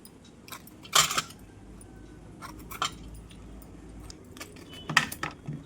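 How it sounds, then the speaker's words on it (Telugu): Ridge gourds being peeled with a knife in a home kitchen: soft scraping and scattered sharp clicks and clinks, with a couple of louder bursts near the start and end, quiet and close. "ఈ బీరకాయలని చక్కగా ఇట్లా మనము చెక్కు తీసుకోవాలి."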